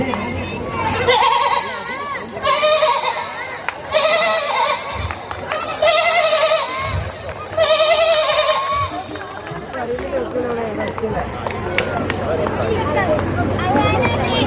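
A mimicry artist imitates a goat on stage, giving a run of loud, close, quavering bleats in about five bursts, followed by crowd murmur and laughter.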